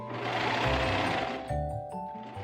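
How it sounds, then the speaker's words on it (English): A serger overlock sewing machine stitches fabric for a dress in fast, loud mechanical bursts, pausing briefly and then restarting in short runs, close up with no talking. "I'll be using my serger for majority of this project"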